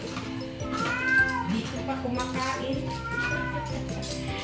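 A hungry pet cat meows repeatedly in drawn-out, wavering cries close by while a person talks over it.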